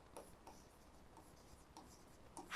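Pen strokes writing a multiplication table by hand, a string of faint, close, short scratches in small bursts with pauses, ending in a louder rustle.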